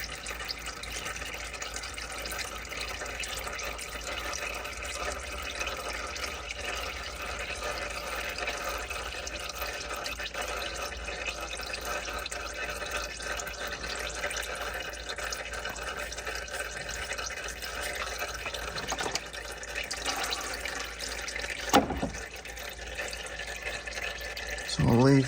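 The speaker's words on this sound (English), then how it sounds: "So we'll leave the oil draining out for a bit longer." Engine oil drains steadily from the sump of a Hyundai i20 1.2 into a pan, a continuous trickling pour heard close with a few faint knocks near the end.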